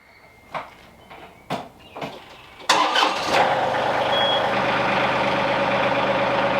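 A tractor engine cranks with several short clicks and turnover attempts, then catches and settles into a loud, steady idle that runs to the end, close by and with no talking.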